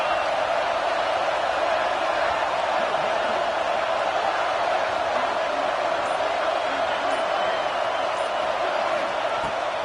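Stadium crowd noise from a college football video game, a dense continuous roar held at a steady level throughout, with no distinct cheers or peaks standing out.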